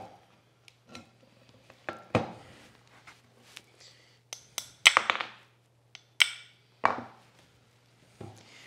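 Hammer tapping gently on a Stanley Bedrock 604-1/2 hand plane casting during restoration, a dozen or so sharp, irregular metallic knocks and clinks with short pauses between them, close and fairly quiet over a low steady hum.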